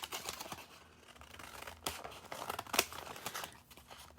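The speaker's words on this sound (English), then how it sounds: "I'm going to just take my scissors and trim off" Scissors trimming paper for a Halloween luminaria: quiet, close crinkling and snipping with several sharp cuts and paper rustles at irregular intervals, no talk.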